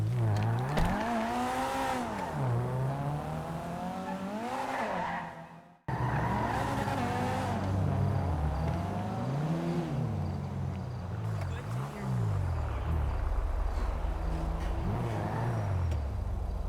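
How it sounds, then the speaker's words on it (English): A stolen car in GTA revs and skids with screeching tires, engine pitch rising and falling through repeated bursts of acceleration, loud and close, with a brief dropout partway through. "He stole the car and once again drove to Lil Durk's mansion to finish the job."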